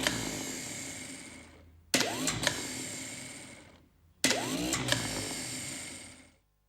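A diesel engine's coaxial starter motor, whose pinion gear slides along the shaft to mesh with the flywheel ring gear, cranks in two separate bursts. Each starts abruptly with a whirring, rising whine that slowly fades, with no voices.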